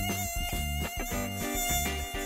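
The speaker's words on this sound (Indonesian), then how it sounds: "Nyamuk sangat menyebalkan." Cartoon mosquito buzzing, a steady high-pitched whine that wavers slightly in pitch, loud and close throughout with no talk.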